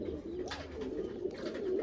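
Newly caught pigeon cooing close by, soft throaty coos repeating through the short stretch over low background noise.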